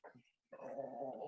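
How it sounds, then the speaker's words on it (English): A dog gives a brief, low growl close to a home microphone during an online town board meeting. A short sound comes first, then a sustained rumbling growl. "Sorry, that's my dog."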